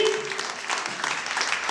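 An audience at a gathering claps in a brief, steady burst of moderate applause.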